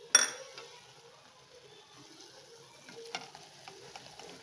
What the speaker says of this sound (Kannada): ಅವಲಕ್ಕಿಯನ್ನು ಹಾಕ್ತಾ ಇದ್ದೇನೆ, ದಪ್ಪ ಅವಲಕ್ಕಿ